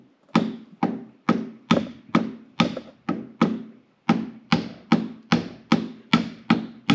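Hammer blows driving a roll pin out of a Delorean GT40 gearbox, about sixteen sharp metallic strikes in a steady rhythm with a brief pause midway, loud and close.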